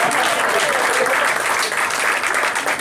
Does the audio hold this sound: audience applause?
yes